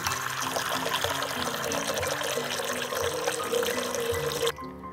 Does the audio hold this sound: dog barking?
no